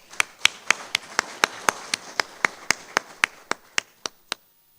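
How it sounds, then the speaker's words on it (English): Applause at a Founder's Week celebration presidential address: about seventeen sharp, evenly spaced claps in a slow steady rhythm, fairly faint, ending abruptly into silence. "Let's give her a round of applause."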